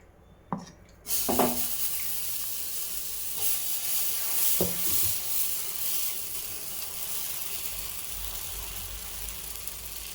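Dosa batter hits a hot oiled pan with a sudden burst of sizzle, then settles into a steady, close frying hiss with faint clinks of utensils.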